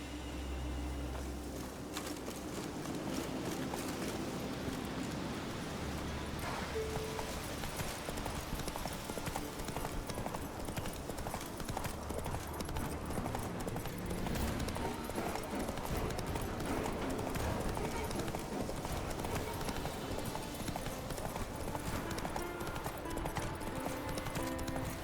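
Horse hooves gallop in The Witcher 3: Wild Hunt game, a fast, continuous clip-clop rhythm that runs loud and close for the whole stretch over rumbling ambient game sound.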